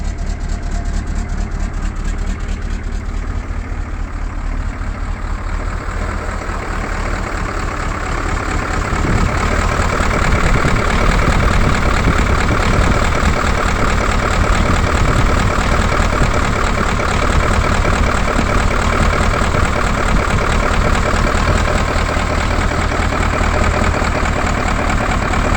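A freshly started engine idles loudly and steadily with a deep, rough throb. It grows somewhat louder after the first several seconds and then holds an even drone to the end.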